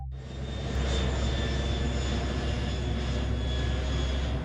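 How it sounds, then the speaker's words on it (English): Jet airliner engines roar steadily at full power during takeoff, a loud, sustained broadband rumble with whining tones holding throughout, no voices. "the aircraft took off"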